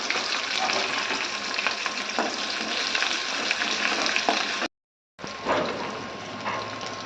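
Dried red chillies, crushed garlic, curry leaves and onion sauté in a pan for tamarind rice, a dense close sizzle with light stirring clicks, broken by a half-second of silence near the end before frying resumes.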